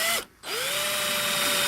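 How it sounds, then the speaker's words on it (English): A power drill pre-drills holes in wood for a tomato planter, whining loudly at speed, briefly stopping, then spinning back up to a steady high whir, close and alone. "Once again, we're doing the pre-drills"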